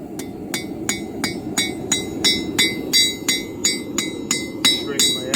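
Steady hammer blows on a nail being forged into a four-sided bevel, roughly a dozen sharp metallic strikes at an even rhythm, loud and close over a low background rumble.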